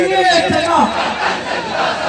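A large crowd at a religious gathering chants a slogan in unison, loud and close, a roaring massed shout that swells and sustains for the whole stretch.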